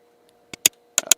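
Artificial typing feedback sound from a ROCCAT Vulcan keyboard, a handful of short, crisp clicks in an uneven rhythm, quiet and close, with nothing else around them.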